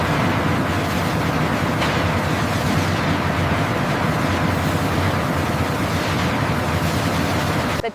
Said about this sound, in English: Inside the heavy-duty shredding unit, massive rotating shredders crush the sugarcane into fine pulp